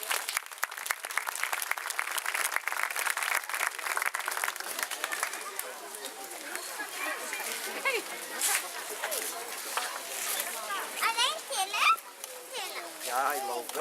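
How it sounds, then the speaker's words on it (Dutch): An audience claps before the start of a children's Lion King musical, with dense, sustained applause that gradually thins as children's chatter and voices rise through the crowd. "En dan wil ik graag nog een applaus vragen voor het begin van de musical The Lion King."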